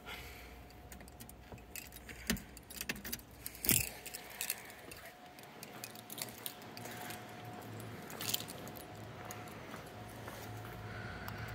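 Car keys for a 1957 Cadillac Eldorado Brougham jangle and clink in several brief bursts, with soft mechanical rattles in between and a quiet background hum.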